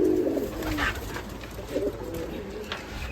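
Low, soft cooing of Giribaj pigeons close by on a pigeon farm, a few muffled calls repeating over a steady background.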